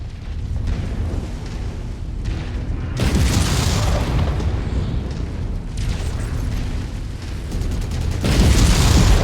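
A destroyed mech blows up in the video game MechWarrior 5, a loud, rumbling explosion with sustained debris roar and fresh bursts swelling through the burning aftermath, no speech.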